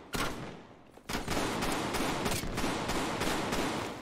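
Dense, sustained gunfire from Call of Duty Black Ops Cold War, in a World War One-style charge into the line of fire. Loud overlapping bursts and volleys run almost unbroken, with a brief dip near the start and no talking.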